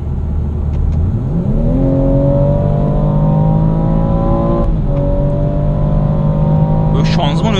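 Under full throttle from 100 km/h, a 340 hp BMW M240i xDrive revs rising steadily, then a sharp gearshift jolt drops the pitch before it climbs again, loud and continuous, with a voice briefly audible near the end.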